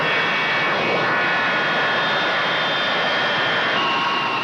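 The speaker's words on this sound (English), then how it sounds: "These Impala are Italian planes, produced here under special license" An Impala jet aircraft with British Rolls-Royce engines flying overhead, giving a loud, steady roar with a high whine that holds evenly throughout.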